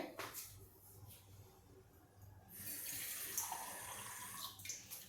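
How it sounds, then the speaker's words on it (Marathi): Water is poured into a pot of shallot sambar in a home kitchen, heard as a soft, steady splashing and trickling stream that starts midway and continues at low volume. "थोडं पाणी वाढवते"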